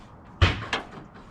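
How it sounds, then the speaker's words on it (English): Lid slammed shut on a wooden box in a garage during a carburetor swap from a stock 2 barrel to a 4 barrel Edelbrock: one sharp, loud wooden bang followed by a smaller second knock. "He's just slamming the lid on a wooden box over there."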